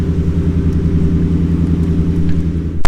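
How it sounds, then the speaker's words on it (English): A 2018 Ford F-150 XL with a 5.0 V8 and aftermarket exhaust idles with a deep, throaty, rumbling exhaust burble, steady and loud up close, with a sharp click at the end. "when you put that kind of exhaust on it, it's really got an awesome throaty noise to it"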